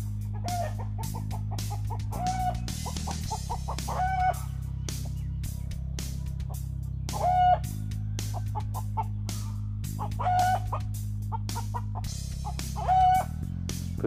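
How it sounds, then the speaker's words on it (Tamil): Native Peruvadai chickens cluck steadily in short repeated bursts, with an occasional louder call, over a constant low hum in the background. "பெருவடை நாட்டுக்கோழி வளர்த்திக்கிட்டு இருக்கேன், அதான் சத்தம் போட்டுட்டு"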